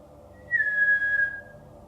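A single clear whistled note, rising quickly then holding steady for under a second, in an otherwise quiet room.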